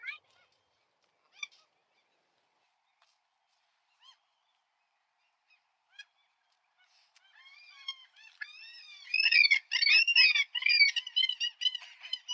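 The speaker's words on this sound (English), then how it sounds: "There's the geese." Geese and goslings at a playground honk, at first a few isolated calls with quiet gaps, then a loud burst of many overlapping honks and squawks nearby.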